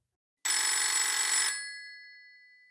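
A telephone bell rings in one sustained electric burst of about a second, loud and alone, then fades out with a lingering tone.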